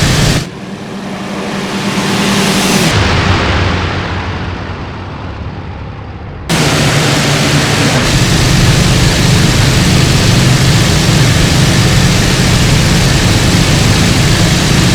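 Loud, continuous piston engine drone from a WWII fighter racing low over the sea in the IL-2 Bodenplatte flight simulator, dipping and muffling for a few seconds before snapping back to a full, steady roar.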